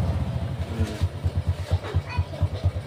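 A motorcycle engine idles with a steady low throbbing pulse, moderately close, while people talk over it.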